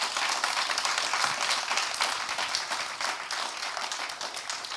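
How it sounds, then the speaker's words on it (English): An audience at a One Young World event at COP26 gives Arctic explorer Robert Swan a sustained round of applause, a steady, fairly soft wash of many hands clapping. "Please give a huge round of applause for Robert Swan for being here with us today"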